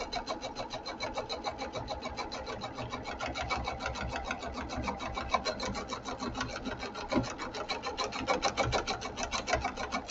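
A sewing machine stitches a placemat made from a dish mat and jelly roll fabric strips, giving a steady rapid rattling chatter of the needle at close range that runs without pause throughout.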